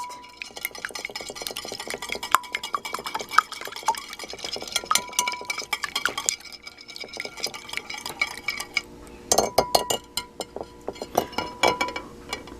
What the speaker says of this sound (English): And then beat those eggs up.